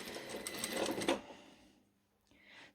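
A sewing machine starts stitching lace at the corner of a nightgown: a short, fast, rattling run of needle strokes for about a second, close and moderately loud, then it stops and fades into quiet room noise with a faint rustle.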